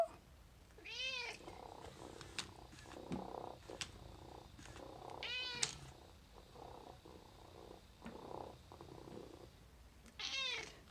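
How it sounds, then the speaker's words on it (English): A robotic toy cat purrs in a soft, continuous rumble, broken by three clear meows spaced several seconds apart. "The cat that meows and purrs for people with dementia."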